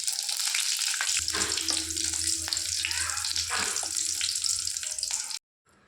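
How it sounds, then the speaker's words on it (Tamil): Shallots and curry leaves hit hot oil with mustard seeds for a tempering for peanut chutney, giving a loud, continuous close sizzle that crackles throughout before cutting off abruptly near the end. "கடுகு நல்லா வெடிச்சு வந்ததும் கட் பண்ணி வச்சு சின்ன வெங்காயம் கருவேப்பிலை சேர்த்துக்கலாம்"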